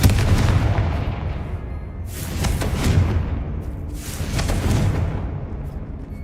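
Confringo blasting-spell explosions in the Hogwarts Legacy video game, three loud booming bursts in a row, each with a rumbling tail, played over continuous game background noise.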